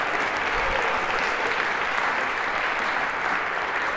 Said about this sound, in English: A round of applause for our final volunteers.